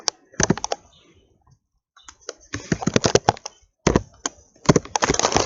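Computer keyboard being typed on in fast bursts of sharp clicks, close up, with a brief quiet gap between flurries and no talking.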